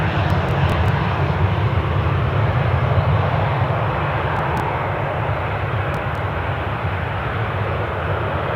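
Jet aircraft engines roar steadily at Newcastle airport, a loud, continuous rumble that fills the whole stretch without pause.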